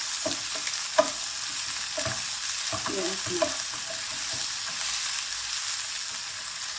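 Vegetables stir-fry lightly in a pan with a soft, steady sizzle under repeated close scraping and clacking of a spatula, one sharper knock near the start.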